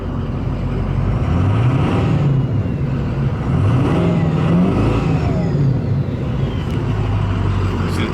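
A 2005 Ford F250 Super Duty with a Powerstroke diesel engine revs up and down repeatedly, giving a loud, close, rumbling roar with rising and falling pitch sweeps throughout.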